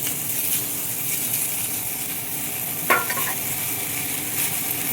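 Cucumber pieces going into a hot pan, heard as a steady close sizzle with soft stirring scrapes and one sharp clack partway through.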